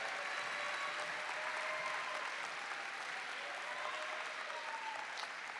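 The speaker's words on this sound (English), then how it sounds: "How about a big round of applause for all of our graduates?" Steady applause from an audience at a nursing and health sciences graduates' evening of excellence, even and sustained throughout with no talk over it.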